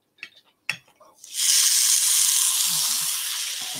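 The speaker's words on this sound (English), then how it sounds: "So good sizzle. It's the best noise in the world" A steak hits a hot pan and bursts into a loud, continuous sizzle that holds steady for several seconds, following a few quiet clinks and handling sounds.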